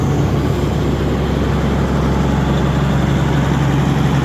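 A John Deere 9420 tractor engine runs after injector and turbo repairs, a loud, close, steady low rumble with no variation and no voices.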